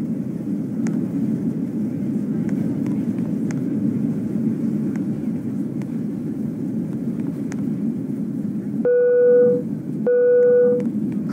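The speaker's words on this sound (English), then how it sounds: "We have started our initial descent and will be landing soon." Steady low airplane cabin rumble throughout a descent to land in Roblox Cabin Crew Simulator, with two short, clear electronic chime tones near the end.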